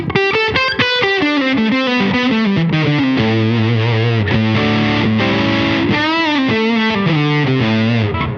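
An electric guitar through a Dophix Medici Dual Fuzz with DL4 delay plays a loud, sustained fuzzy melodic line, notes gliding and ringing with a trailing delay.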